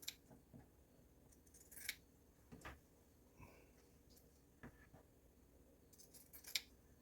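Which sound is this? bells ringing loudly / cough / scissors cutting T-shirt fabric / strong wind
scissors cutting T-shirt fabric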